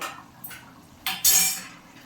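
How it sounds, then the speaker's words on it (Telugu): A metal lid set on a cooking pot of pulusu, tamarind curry, with a few light clinks and then a louder clatter of metal on metal, close and without talk. "కొంచెం మూత పెట్టుకుందాం"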